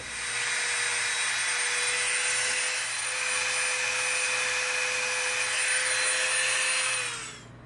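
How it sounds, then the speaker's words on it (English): A Dremel rotary tool grinds a prop pistol, a steady high-pitched whine that holds evenly for several seconds before winding down at the end, with no voices. "now I'm going to come in with this end of our Dremel bit"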